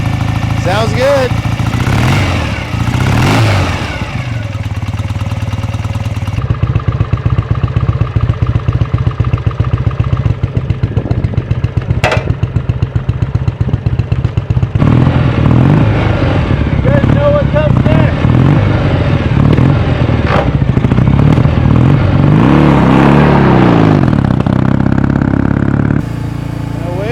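A 1967 BSA Spitfire Mk III twin idles loudly and close up with a lumpy, clattering beat, broken by repeated throttle revs that rise and fall before it settles back to idle.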